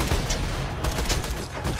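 Continuous rapid gunfire from the video game Borderlands 2, a dense, loud burst of overlapping shots and effects lasting under two seconds, with no talking.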